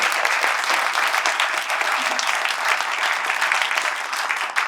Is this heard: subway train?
no